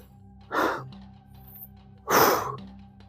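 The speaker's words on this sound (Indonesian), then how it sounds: "Saya ngos-ngosan teman-teman." Two heavy, breathy exhales a second and a half apart, a person panting hard after climbing a hillside to a village, close and loud against a quiet steady background hum.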